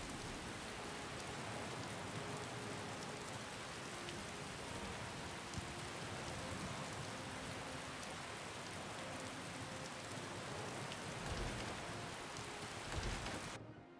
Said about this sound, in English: Rain's a little bit loud.